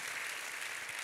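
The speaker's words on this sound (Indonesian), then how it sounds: "Kita kasih tepuk tangan sekali lagi buat Tuhan kita yang luar biasa." A church congregation applauds in a worship service, with dense, even clapping from many hands that is fairly quiet and steady throughout, with no voices standing out.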